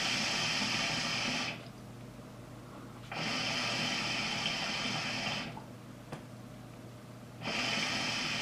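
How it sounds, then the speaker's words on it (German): A shisha fitted with a diffuser bubbles softly in three bursts as someone draws on it, each a few seconds of hushed, airy gurgling separated by quieter pauses. "Wir sehen, das Ganze blubbert weniger."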